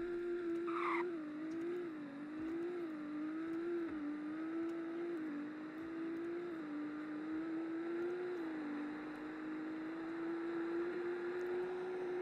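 A hypercar in the Greenville Wisconsin driving game holds a steady, high-pitched engine whine while accelerating, with slight wavering in pitch and faint tyre noise, continuous and alone.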